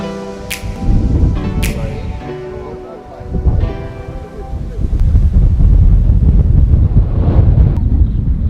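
Wind blowing hard across a hilltop in the Atlas Mountains, buffeting the microphone in gusty, roaring waves that strengthen toward the end, with occasional faint background sounds.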